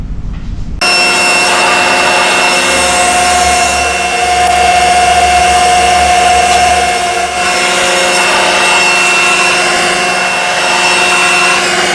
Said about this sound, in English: and then we'll start the sanding process.